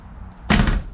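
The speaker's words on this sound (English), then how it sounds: "door shuts pretty good" The door of a 1974 Buick Regal swinging shut after adjustment, a single solid, close slam following a short quiet lead-in.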